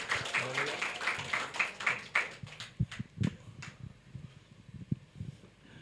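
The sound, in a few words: applause in church service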